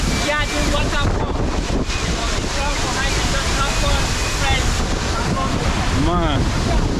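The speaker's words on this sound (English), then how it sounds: "Local government, Adamawa State, Nigeria. This is Yadim Waterfall." Constant roaring rush of Yadim Waterfall in Adamawa State, Nigeria, heard close and loud with heavy wind buffeting the microphone, and a couple of brief voices or whoops cutting through the noise.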